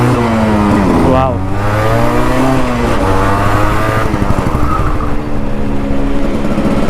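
Yamaha RX two-stroke motorcycle, restored, riding along a highway: a loud, close engine revving up through the gears, then holding a steady buzzing drone, with wind noise throughout.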